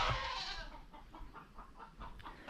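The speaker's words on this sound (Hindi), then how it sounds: "यहाँ पे लोग ना पक्षियों को बहुत पालते हैं, देसी विदेशी मुर्गे देखने को मिलेंगे" Chickens and roosters kept by villagers in a remote Mizoram village in Northeast India, clucking in a string of short calls at moderate distance over outdoor background noise.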